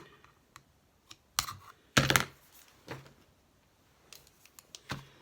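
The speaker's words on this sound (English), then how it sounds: "I am going to cut this wick" Scissors cut a candle wick with a few sharp, close snips and clicks, the strongest being a crisp double cut near the middle, amid light handling taps in a quiet room.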